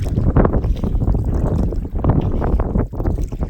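Strong wind buffets the microphone while kayaking on open water in Northern Ontario, a close, continuous roaring rumble with gusty surges and a brief lull near the end.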